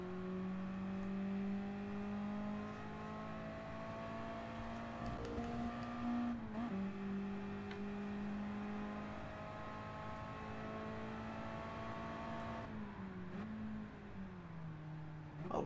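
A Mazda Eunos Roadster's engine drones in Gran Turismo Sport, holding a steady tone that climbs and drops through gear changes under power, with no voices.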